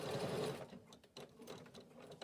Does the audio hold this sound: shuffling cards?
no